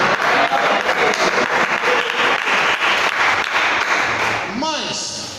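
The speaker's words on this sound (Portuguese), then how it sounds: "Graças e palmas na glória a Deus." Church congregation applauding in praise during a Portuguese-language worship service, a steady dense wash of clapping that holds at full strength before tapering toward the end, with a voice briefly audible near the close.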